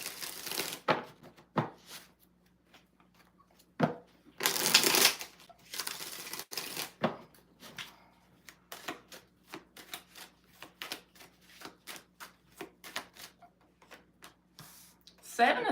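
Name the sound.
shuffling tarot cards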